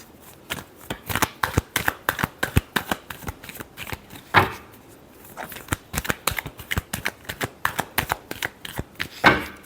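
A deck of tarot cards is shuffled by hand in quick repeated riffles, a crisp rhythmic flutter of short papery slaps heard close up throughout with no talking.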